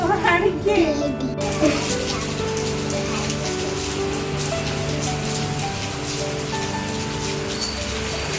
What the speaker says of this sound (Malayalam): ഇന്ന് രാവിലെ തൊട്ട് ഫുള്ള് മഴയാണ്, കണ്ടിന്യൂസ് ആയിട്ട് മഴയാട്ടോ, നിന്നിട്ടില്ല.